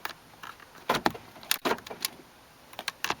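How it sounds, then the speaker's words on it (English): The faulty central locking of a barn-find Toyota Carina E clicks and clatters in irregular sharp bursts, some clustered and some spaced apart, close by with no talking. "that clicking, as if the central locking wants to work"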